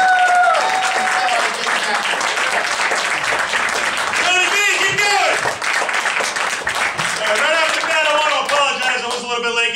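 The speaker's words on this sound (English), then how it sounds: "Give him a nice round of applause." A comedy club audience at Giggles in Saugus, Massachusetts breaks into loud, sustained applause and cheering for a stand-up comedian taking the stage, with a few shouts mixed into the clapping.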